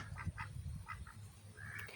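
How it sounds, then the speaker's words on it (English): Ducks quacking in short scattered bursts near a farmyard chicken coop, fairly faint over a low steady rumble of background noise, with no one speaking. "The ducks are already coming back over."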